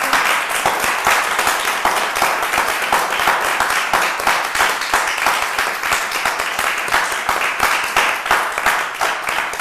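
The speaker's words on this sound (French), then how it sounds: "Vous allez vous applaudir très fort" A live audience at a young entrepreneurs' event in Côte d'Ivoire claps loudly and continuously, with a fast, even patter of many hands close by and no talk.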